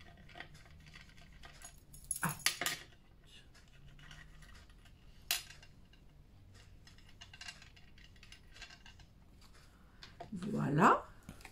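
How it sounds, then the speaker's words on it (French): Bracelets on a wrist jangle and clink in short bright bursts while paper pieces for a mini album are glued at a table, with quiet gaps between, ending in a louder rattle. "mes bracelets vont faire du bruit"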